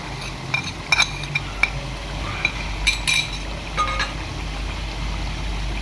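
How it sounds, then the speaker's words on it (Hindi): Spices being stirred into beef tikka karahi in a pot, with a spoon scraping and clinking against the metal in irregular close taps over a low steady background hum. "और इसको अच्छी तरह मिक्स करेंगे"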